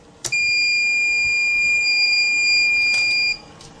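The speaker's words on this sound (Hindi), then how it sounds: "बीप की भी आवाज़ आएगी।" A SMAERTON power inverter gives a steady electronic beep when switched on, loud and continuous for about three seconds with a click at its start and end.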